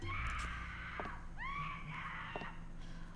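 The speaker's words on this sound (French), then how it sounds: "mais c'est dégueulasse les bruits là, les cris" In a horror video game, distant wailing screams rise and fall over an ominous low drone, with a few sharp sliding cries in the middle.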